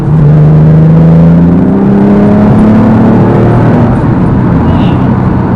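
Inside a Porsche 996 under acceleration, the engine note climbs steadily and loudly in pitch, with a continuous rising drone and road rumble from the cabin.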